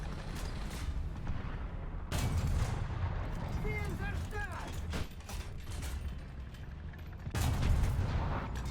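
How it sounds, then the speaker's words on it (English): Gunfire in War Thunder striking the player's vehicle, a mix of mechanical clanks and booming shots over a constant rumble, with sharp loud bursts near the two- and seven-second marks. "Why is everything shooting me?"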